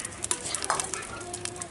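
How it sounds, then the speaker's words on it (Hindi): Whole cumin, black pepper, whole garam masala and bay leaves drop into hot oil for a chicken handi, giving a faint, crackling sizzle with small spits and light clinks, brief and quiet. "अब इसमें डालेंगे साबुत जीरा और काली मिर्च, साबुत गरम मसाला डालेंगे, दो से तीन तेज पत्ता"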